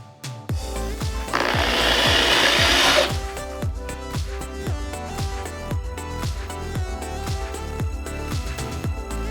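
Power drill driving 1-inch screws into wooden pull-out kitchen drawers, a rapid steady rhythmic chatter of the driver throughout, with a louder hissing burst early on.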